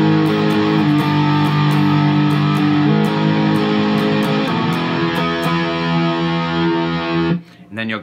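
A distorted electric guitar strums a chugging chord progression with a ticking click track above, loud and continuous, then cuts off abruptly near the end.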